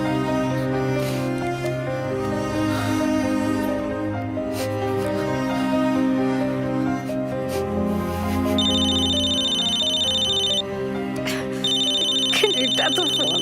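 A telephone rings repeatedly with bright electronic bursts over a steady music and ambience bed, an incoming call from Canada in a Punjabi family drama.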